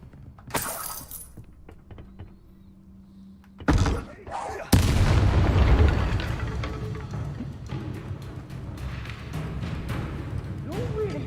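A Bombarda spell blast in Hogwarts Legacy: after quiet stretches, a sudden loud explosive burst with crashing, shattering debris that leaves a long rumbling tail, with a voice speaking.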